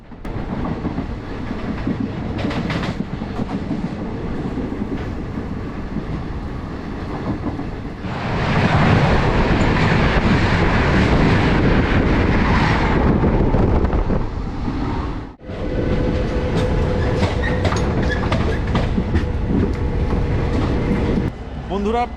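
The Mussoorie Express rolls steadily along the rails, its continuous rumble and clickety-clack swelling louder partway through, with wind buffeting the microphone and a brief dip before the running noise resumes.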